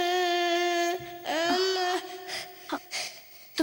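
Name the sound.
child crying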